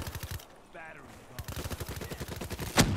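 Rapid gunfire in Call of Duty Black Ops 3, a steady stream of close shots with a brief lull, then a louder sharp blast near the end, under faint voices.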